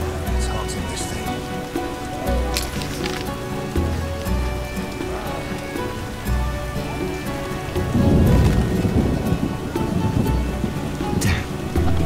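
Rain and thunder in The Witcher video game: steady heavy rainfall with rumbles of thunder, a louder roll swelling near the end.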